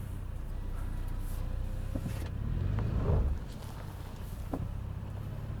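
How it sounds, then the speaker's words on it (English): A 2021 Toyota 4Runner in two-wheel drive climbs a slanted hill, its engine a steady low drone that rises and strains briefly before easing off, with light crunches and knocks of tires on rough ground and no talking. "I'm rolling out and I'm just keeping it in 2-wheel drive at first."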